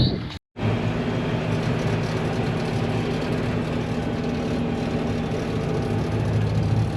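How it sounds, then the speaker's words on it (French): Farm tractor engine running steadily with a low droning hum throughout, constant and fairly close after a brief cut near the start. "Et ben voilà, changement de cavalier, on a changé de tracteur."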